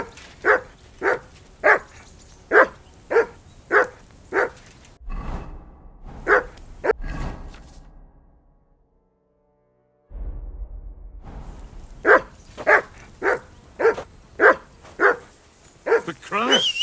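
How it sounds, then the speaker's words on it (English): Dog barking in the medieval video game Kingdom Come: Deliverance II, repeated loud rhythmic barks in quick runs, broken by a pause and near-silence, then resuming, with game voices speaking in between. "Whistle at that mutt of yours to stop barking!"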